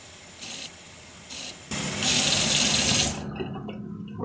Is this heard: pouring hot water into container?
yes